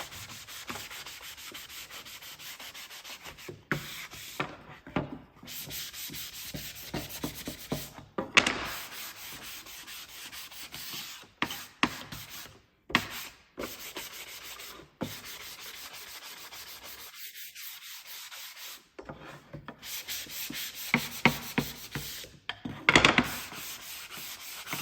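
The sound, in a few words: sanding a wooden tea towel ladder rack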